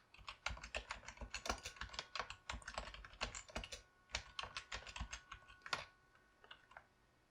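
Someone typing on a computer keyboard, a quick irregular run of close, crisp key clicks that taps out and stops near the end, quiet with no talking.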